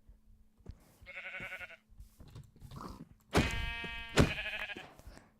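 Sheep in the Minecraft video game bleat several times, short nasal cries with two louder ones near the end, while a person utters a brief word.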